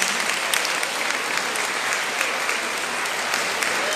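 Steady, dense applause from a crowd at a senior high school commencement ceremony, many hands clapping together at an even level for the whole stretch with no break.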